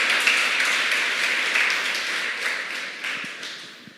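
Church congregation applauding during a sermon, a crowd of hands clapping steadily and fairly loud, then thinning and fading toward the end.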